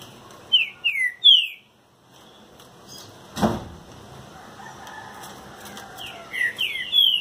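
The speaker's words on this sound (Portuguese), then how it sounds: "os dois cantando juntinho, um dentro da cara do outro" Caged saltator songbirds (trinca-ferro) sing close together, cages nearly touching, giving short bright whistled phrases in bursts at the start and end, with a sharp knock in the middle and quiet background between.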